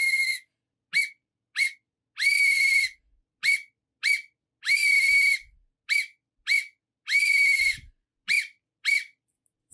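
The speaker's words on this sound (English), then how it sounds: "we're going to use our whistle for long and short notes" A whistle plays a pattern of long and short notes, about a dozen clear, shrill blasts with several held longer than the quick ones, each separated by silence.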